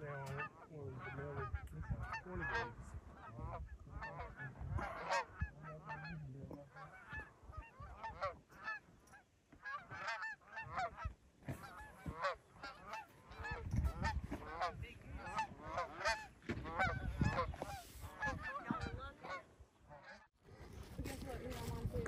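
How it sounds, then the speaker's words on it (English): Big flights of ducks and geese arrive over a decoy spread in Canada, honking constantly and overlapping in a dense chorus, some calls near and loud, others farther off, with occasional bursts of wind noise. "the big flights of ducks and geese arrived and are wanting to land in the decoys"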